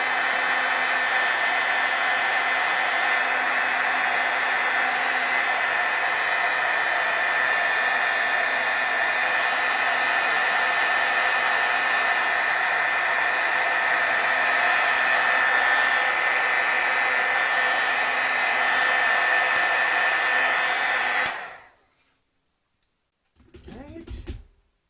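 A heat tool blows steadily for about twenty seconds, setting stamped brush images, then clicks off into near silence.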